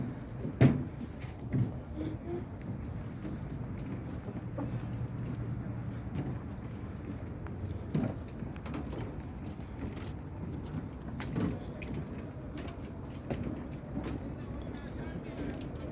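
A fishing boat's engines drone low and steady at sea in big rocking waves, with occasional knocks and thuds, as people talk intermittently over the hum.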